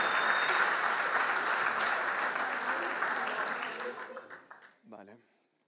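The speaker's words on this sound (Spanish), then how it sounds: "¡Aplauso!" An audience gives loud sustained applause at a 2019 public event in Irun, the dense clapping slowly thinning and dying away, followed by a brief voice at the very end.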